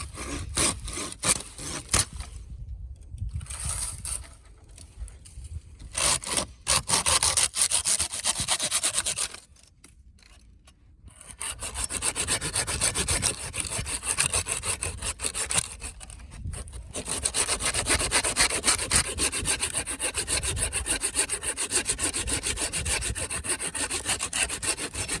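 A Samurai KISI pull saw cuts through a thick piece of very dry dead tree, giving a steady rasping rhythm of pull strokes with a few brief pauses, close and clear with no talking.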